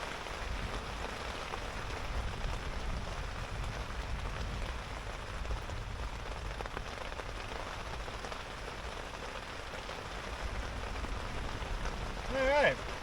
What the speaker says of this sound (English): I think I can handle this. A little bit of rain.